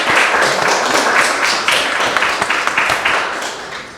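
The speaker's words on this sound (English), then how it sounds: "please give him a round of applause" A panel discussion audience claps for an artist: dense, loud applause from a room full of people, steady for several seconds before tapering off toward the end.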